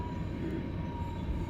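Steady low rumble of an R211A subway train running in the OpenBVE simulator, a constant rolling drone with a faint high whine and no speech.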